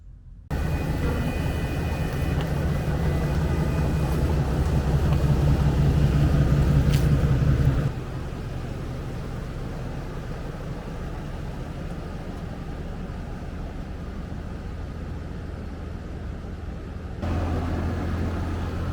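A 2019-2021 Ram 2500 pickup fitted with aftermarket four-link suspension arms pulls out, its engine a close, steady low rumble that eases partway through and swells again near the end.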